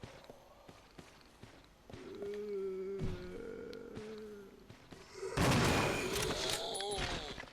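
Zombie-infested area in Resident Evil Zero: scattered thuds and footsteps, then a loud burst of gunfire near the end, mixed with game noise.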